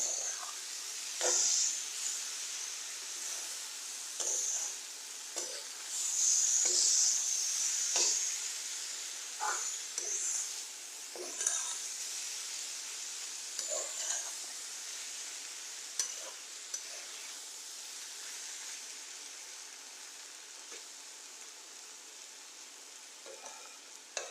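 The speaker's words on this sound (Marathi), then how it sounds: "पाच मिनटं परतून घेऊया" Paneer bhurji sautés in a pan with a soft steady sizzle, punctuated by intermittent spatula taps and stirring scrapes, fairly quiet and without talk.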